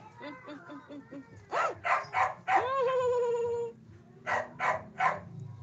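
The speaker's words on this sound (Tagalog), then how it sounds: "Yung aso ko nagsiselos." A dog barks and yips several times up close, with whiny, pitched bursts in quick clusters, and people talk around it.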